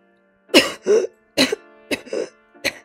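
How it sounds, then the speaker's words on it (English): A voice produces a series of short, rough coughs and throat clears in three quick pairs, close and distinct against silence. "Broke off to cough and then continued."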